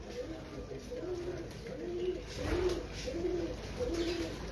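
Breeder pigeons coo on a Lahore rooftop, with soft repeated low coos in a regular rhythm under faint background noise.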